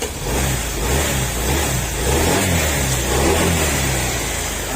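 A Honda ADV160 scooter engine, freshly rebuilt with new piston rings, hums steadily close by, rising and falling slightly as the throttle is blipped, with a rough mechanical rattle underneath.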